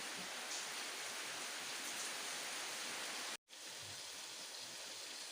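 Heavy rain pours steadily and loudly on an early morning in Surin, a dense continuous hiss with a brief dropout partway through and no voices.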